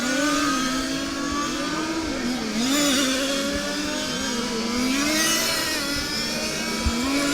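High-pitched large scale RC race car engines scream around a track during the final of a European championship, their pitch sweeping up and down steadily as two cars battle closely, continuous and loud with no talk.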